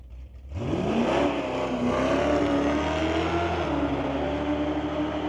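A 1974 Jeep CJ launching down the drag strip at Mission Raceway, its engine roaring loud with pitch rising then holding in a sustained wail.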